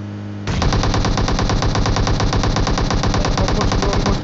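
Automatic gunfire in the mobile battle royale game PUBG Mobile: after a brief quiet moment, a loud, rapid, continuous burst of machine-gun shots rattles on without pause, close and dominant.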